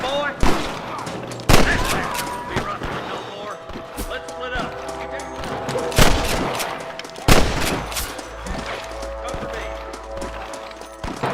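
Repeated gunshots crack in a Red Dead Redemption shootout against rustlers, with sharp loud bursts spread irregularly across the scene over game music, hoofbeats and shouting voices.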